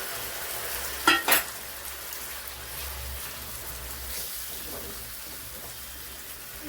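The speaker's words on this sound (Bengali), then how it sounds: "মশলাটা হয়ে গেছে, পালং শাকটা ঢেলে দেবো" Spinach being fried in a cooked spice mixture in oil for a palak paneer dish gives a steady, moderate sizzle throughout, with a brief louder burst of stirring or tossing near the start.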